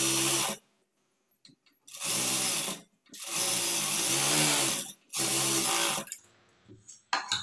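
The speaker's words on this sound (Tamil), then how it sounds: "அடுத்தது இப்போ இந்த லைனிங் உடைய எஜ்ஜிலேயே வந்து தையல் போட்டுக்குங்க." A sewing machine stitching along the lining edge of a blouse runs in four loud, steady bursts of rapid mechanical whirring, separated by short pauses of near silence.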